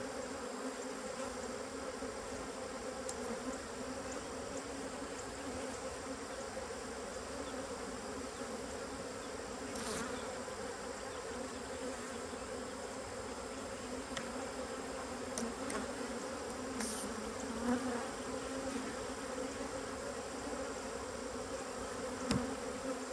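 Honey bees hum steadily in front of a beehive at an apiary, a dense continuous buzz from many insects close by, with occasional louder individual bees passing near and no talk.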